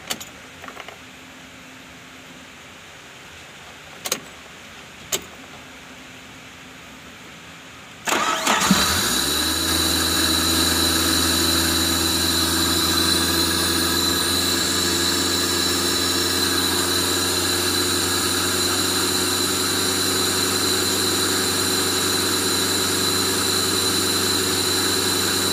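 Suzuki Carry Futura engine started after throttle body cleaning, a short crank and catch followed by a loud, steady running engine that holds high revs for about eighteen seconds; faint clicks and handling noises come before the start.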